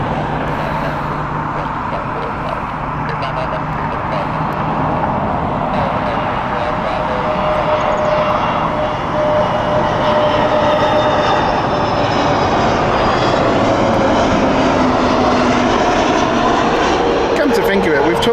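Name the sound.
British Airways jet from Lisbon arriving at Heathrow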